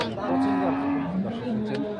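Sahiwal bull cattle mooing, a long drawn-out low call with another lowing answer, set against the busy murmur of a crowded outdoor cattle market at Ambari, Dinajpur.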